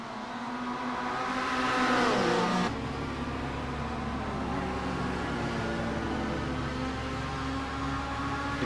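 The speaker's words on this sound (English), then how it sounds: "Into turn 1 they go, then Chris Wood." Touring cars race at Circuit Zolder GP in iRacing, a loud continuous engine drone with revving and shifting pitch. The sound steps down abruptly near the three-second mark, then holds steady with layered cars.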